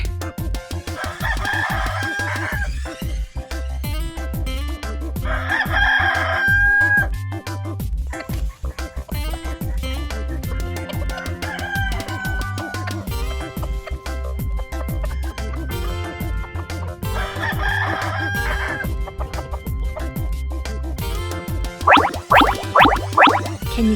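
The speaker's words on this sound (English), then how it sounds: "that's the rooster" A rooster crows a few times over a steady backing music track in a children's farm animal segment, the calls moderately loud and close, with no talking.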